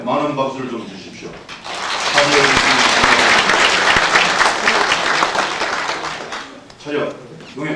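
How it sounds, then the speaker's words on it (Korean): Sustained applause from an audience at a staff retirement ceremony, swelling after a brief spoken moment, holding loud for several seconds, then tapering as a voice returns. "많은 박수를 좀 주십시오"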